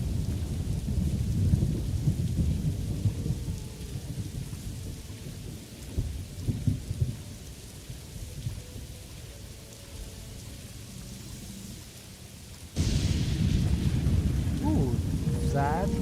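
Rain and thunder in the video game Morrowind, a constant patter of rain with low rumbling thunder swelling and fading, then a sudden louder burst of storm noise near the end.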